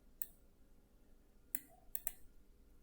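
Crisp computer mouse clicks while working in inspection-type software, one isolated click, then a quick cluster of three sharp clicks, soft and close in a quiet room.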